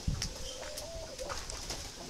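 Spotted doves coo on a dove farm in Ba Vì, near Hanoi, amid a constant bright wash of background chirping, with soft coos drawn out through the middle of the clip and a low knock at the start.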